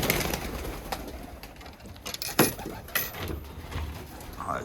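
Iraqi pigeons coo in a loft, intermittent low calls close by amid wing flutters and small clattering knocks.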